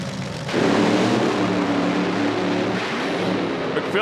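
Top alcohol drag racing cars launching at a strip in Milan, a sudden loud roar that swells and holds as a dense, powerful engine blast, heard from a distance with no voices.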